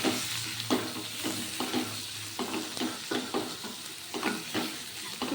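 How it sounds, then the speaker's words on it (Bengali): Chicken being stirred with onions in a hot pan for a homestyle chicken stew, a constant sizzle broken by regular scraping strokes of the spatula, close and steady. "চিকেনটা দিয়ে খুব ভালো করে নেড়ে নেবো। এর সাথে পেঁয়াজের সাথে মিশিয়ে নেবো চিকেনটাকে।"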